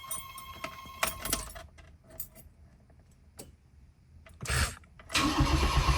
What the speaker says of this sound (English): let's go ahead and put the key in the ignition.